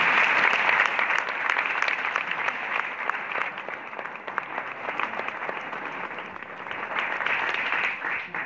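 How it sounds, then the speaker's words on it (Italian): An audience applauds the Filarmonica di Chianischio e Parascorsano band at an outdoor town concert in Sparone, 2016; dense, steady clapping carries on for several seconds without letting up. "E quindi farei un applauso."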